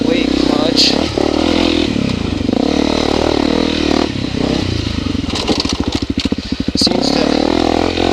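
A Honda CRF250L engine runs close by, with a steady rumble and a stretch of rapid pulsing revs near the end. People talk over it throughout.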